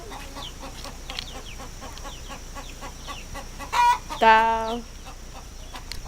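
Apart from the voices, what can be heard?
chicken clucking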